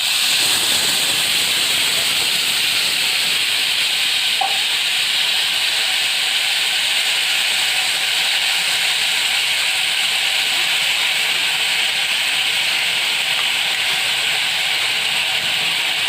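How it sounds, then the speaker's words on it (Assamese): Sweet hog plum (amra) fruit sizzles in a hot pan while a fish curry is being made, giving a loud, continuous, unbroken hiss with no voices. "অমৰাখিনি এতিয়া ইয়াত চেকি পেলাই দি"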